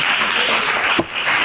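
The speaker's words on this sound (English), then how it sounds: "Let's give Councilman Starr a round of applause if we can" A crowd at a ward community meeting applauds Councilman Starr, a dense, loud wash of clapping that dips briefly near the end.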